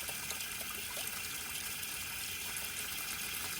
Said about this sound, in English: that's well water